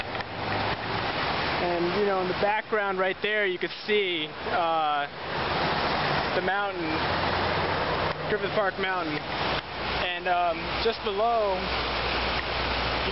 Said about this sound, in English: You can probably hear it, but the Los Angeles River is running pretty rapid right now.